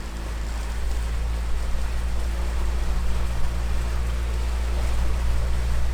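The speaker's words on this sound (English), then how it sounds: "Taking a cruise in our Bennington S20 with our Yamaha 90 on it." A Bennington S20 pontoon boat with a Yamaha 90 outboard cruises on open water on a sunny Florida day, giving a steady low engine drone with constant water and wind rush throughout.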